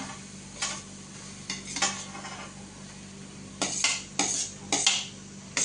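Potatoes for Mumbai-style pav bhaji being added to a pan and stirred: a low sizzle under a series of distinct metal scraping and clanking strokes, spaced irregularly and growing busier toward the end, with no voices.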